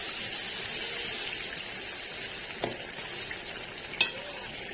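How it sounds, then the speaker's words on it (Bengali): Gravy water added to an egg paneer curry frying in a pan, producing a steady, quiet hiss and bubble with a few soft clinks and knocks, close by and with no voices. "এরপর দিয়ে দিচ্ছি পরিমাণ মতো ঝোলের জল"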